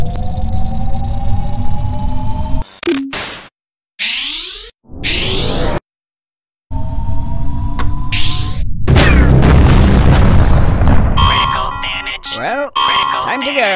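The Supreme Dominance weapon in the Henry Stickmin game charges and fires, with loud rising electronic tones, abrupt cuts to silence and a heavy explosive boom, mixed with game sound effects.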